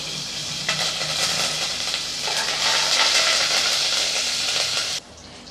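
Garlic, green chili and curry leaves frying in hot oil for a Tamil tomato kuzhambu, a steady close sizzle and crackle that grows louder midway and cuts off sharply near the end.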